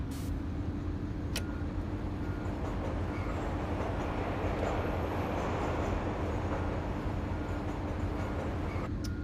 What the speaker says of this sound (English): Train over there.